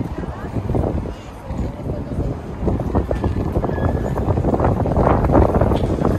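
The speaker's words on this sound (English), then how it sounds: "Sorry about the wind." Wind buffets an outdoor microphone in an Edinburgh graveyard, a loud continuous low rumble with gusting swells and faint footstep-like knocks underneath.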